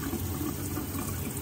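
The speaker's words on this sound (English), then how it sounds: "I am going to fill those up with, you know, cool to warm water" Cool to warm tap water streams steadily into a plastic tie-dye bottle, a continuous close rushing hiss of water filling with no talking.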